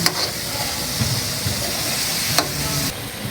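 Chicken sizzles in a pan as its fat renders, a close, loud steady hiss broken by a couple of sharp spatter pops.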